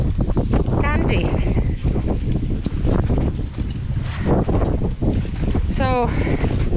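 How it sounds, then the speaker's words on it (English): Strong wind gusts buffet a boat on a very windy day, a loud continuous roar with flapping and creaking, while someone talks over it. "very windy day"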